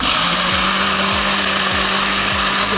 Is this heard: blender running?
yes